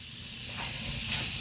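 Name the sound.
vinegar fizzing on brass drain cover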